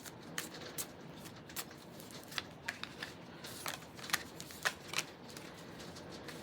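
Playing cards are shuffled close by, a series of quick riffling flicks and soft snaps in an irregular rhythm against a quiet room.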